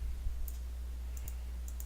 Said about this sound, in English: you can duplicate by right clicking too if you want